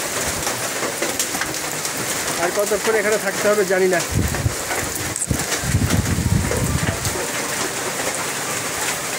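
Steady rain pours on Konglak hill, a dense hiss with patter on a nearby surface throughout, while a person talks over it partway and a few low thuds break in.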